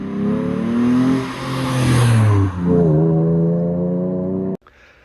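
A Morgan Roadster with a 3.7-litre V6 revs hard close by, its engine note climbing through rising sweeps, dipping briefly, then climbing again before cutting off abruptly.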